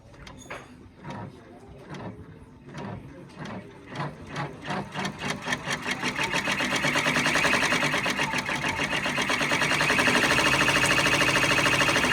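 A 10-needle embroidery machine starts up and builds to a fast, steady rhythmic stitching, the needle strikes quickening from separate clacks into a continuous loud mechanical chatter.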